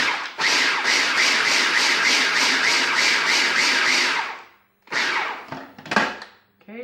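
A kitchen food processor pulsing cilantro pesto with salt, a loud coarse chopping whir for about four seconds, then a pause and a few shorter bursts, close and with no talk.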